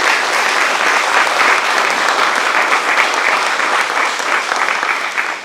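Sustained, loud applause from an audience at a community center ribbon cutting ceremony, a thick even wash of clapping hands that holds steady and fades slightly at the close.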